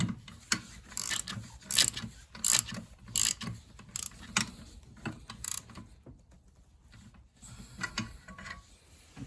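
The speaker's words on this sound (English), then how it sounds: "Now the wrench." During an engine service on a Toyota RAV4, a ratchet wrench clicks in quick bursts of turning strokes separated by short pauses, close and fairly quiet, with light rubbing handling noise and no talking.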